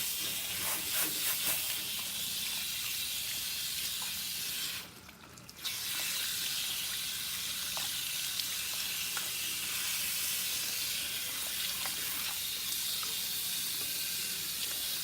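Cool tap water runs steadily while rinsing conditioner from hair at a salon sink, a constant soft hiss with a brief dip partway through and no talk.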